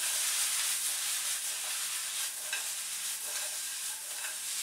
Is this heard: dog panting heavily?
no